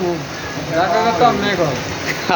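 Steady rain falls as a dense, even hiss of drops, loud and close, continuing beneath people talking over it throughout.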